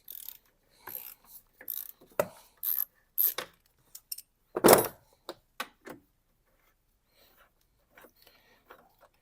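Ratchet cranking on a 12 mm bolt at a car battery hold-down, a series of short close clicking bursts with pauses between, one louder longer burst midway and quiet trailing clicks.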